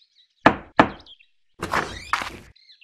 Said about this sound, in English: Dorothy bravely knocked.